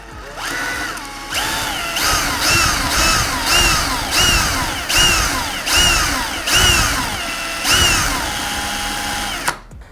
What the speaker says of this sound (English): And that's how you drill out a screw.